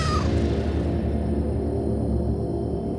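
A panicked cat meows loudly and close, with one strained cry over a thick, dense background throughout.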